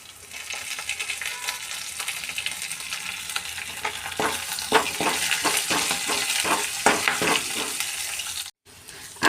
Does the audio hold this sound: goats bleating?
no